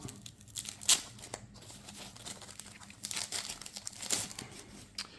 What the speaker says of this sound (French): On va déballer tout ça tranquillement.